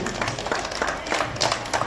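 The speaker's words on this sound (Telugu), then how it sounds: "చప్పట్లు గట్టిగా చప్పట్లు" Children clapping loudly at a kids' program, a dense burst of rapid, uneven hand claps close by, steady for the whole short stretch.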